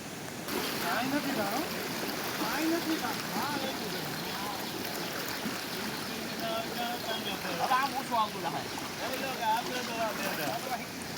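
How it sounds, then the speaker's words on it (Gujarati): Floodwater rushes through a breach in the Ozat river embankment in Gher, Junagadh, a steady broad roar that runs the whole time. Someone talks over it and other voices come and go. "પાણીની સ્પીડ જોઈ શકો છો આપ"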